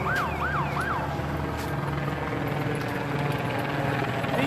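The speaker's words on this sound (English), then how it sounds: "sirens." Emergency sirens wail at a 2020 street protest, a few rising and falling sweeps heard at moderate distance over steady crowd and traffic rumble.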